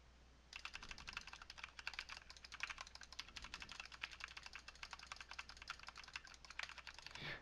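Rapid, steady computer keyboard typing with occasional sharper mouse clicks, picked up by an ASUS ROG Theta 7.1 headset microphone, close and continuous for several seconds with no voices.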